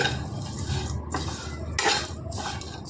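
A spoon scraping and clinking in a pan as masala chili powder is stirred through frying potato pieces for aloo fry, with irregular metallic scrapes over a faint sizzle.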